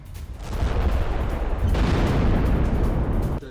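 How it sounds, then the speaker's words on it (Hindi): A car blast after an Israeli strike in Jenin: a sustained, loud rumbling roar of explosion and crackling debris, dense low boom spreading across the whole span before cutting off abruptly near the end. "हमले के बाद कार में बड़ा धमाका हुआ है।"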